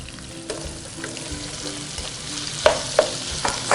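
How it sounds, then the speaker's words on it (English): Steady sizzling of onion and potatoes frying in a pan, with a few sharp scraping clicks from stirring near the end. "it seems like the onion starts sizzling, so I'm gonna add the potatoes."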